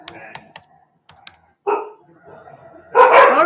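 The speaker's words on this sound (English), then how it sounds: "you can probably hear my dogs in the background" Dogs bark in a few sharp bursts, including a loud close one at the end, mixed with quick clicking taps in a quiet indoor room.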